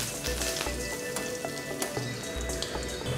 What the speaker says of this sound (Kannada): ಬೆಳ್ಳುಳ್ಳಿ ಹಾಕ್ತಾಯಿದ್ದೀನಿ